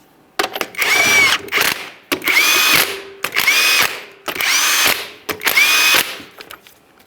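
A power tool spins lug nuts down onto the rear wheel of a 2011-2021 Jeep Grand Cherokee 3.6L V6, five loud, close whirring bursts each about a second long, separated by short pauses and clicks.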